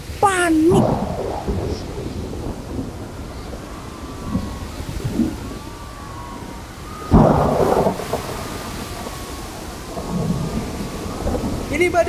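A big thunderstorm at sea, with heavy rain hissing throughout and loud thunder cracking and rumbling near, the strongest clap about two-thirds of the way in, while a voice briefly speaks at the start.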